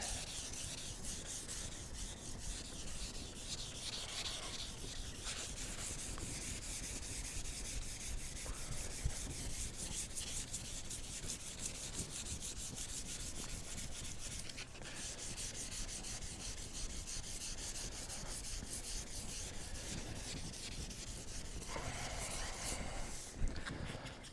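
Steady, continuous rubbing of sandpaper on a car body panel during dent repair, a dry broadband scratching that runs unbroken and fairly quiet, with no talk.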